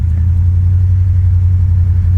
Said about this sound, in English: this engine's got a lot of torque